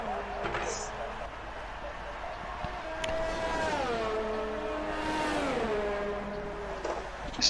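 Formula 1 racing car engine in the F1 2019 video game, a whining tone rising and falling with revs and gear changes, with voices talking over it.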